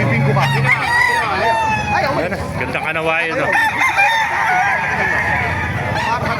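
Several roosters crow one after another amid clucking fowl at a crowded chicken market in Bocaue, Bulacan, Philippines, with people talking nearby.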